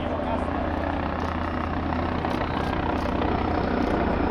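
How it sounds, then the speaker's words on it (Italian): Helicopter hovering in slow, low flight over water at a Jesolo air show, a steady droning rotor and engine rumble with a constant low hum under a spoken commentary voice. "l'Eurocast è il rilascio di personale dagli elicotteri in overing, in lenta traslazione a bassa altezza su acqua"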